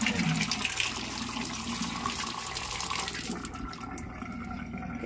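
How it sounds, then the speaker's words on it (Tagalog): Fish from a muddy market washed under running water, a continuous rushing splash and trickle that softens slightly toward the end, with no talking. "Kaya hugas muna tayo bago natin i-prepare yung ating isda."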